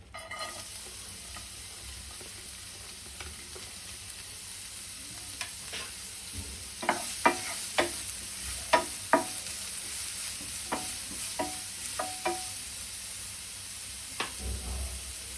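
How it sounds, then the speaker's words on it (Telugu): Onions frying in two spoons of oil with a pinch of salt, a steady close sizzle broken by scattered sharp scrapes and clicks of a spoon stirring the pan, no talk. "రెండు స్పూన్లు నూనె వేసుకోవాలి. వేసుకున్నాక ఇప్పుడు ఉల్లిగడ్డ వేసుకోవాలి."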